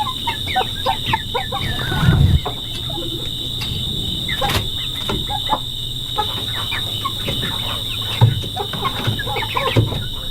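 Chickens cluck and murmur softly inside a closed coop, with a constant high electrical hum and occasional low thumps.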